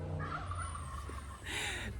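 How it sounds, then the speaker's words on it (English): Turkeys gobbling in a burst of rapid warbling calls, moderately distant, over faint outdoor garden background noise in the Pacific Northwest. "Do you hear the turkeys?"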